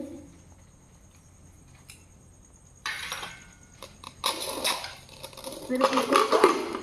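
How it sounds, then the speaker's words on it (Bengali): A pressure cooker set down on a gas stove burner, with a few metallic clanks and scrapes of pot against grate in a quiet kitchen, growing louder and busier toward the end. "গ্যাস অন করে নিয়েছি এবারে কুকার বসিয়ে দিলাম"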